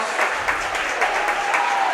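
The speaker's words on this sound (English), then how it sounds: "the Viking Viking coaches, I think, somewhat sarcastically applauding that there is finally a penalty against Galena" Coaches clapping at a high school football game after a holding penalty, a dense, steady patter of applause that carries on evenly across the whole moment, heard at a moderate distance.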